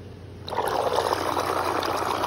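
Water trickles and splashes from a reef aquarium return line, starting abruptly after a brief quiet moment and then continuing as a steady, close, bubbling flow.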